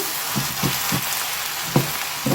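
Onions frying in a pan with drumstick leaves and egg, a steady sizzle with soft, repeated scraping stirs close by.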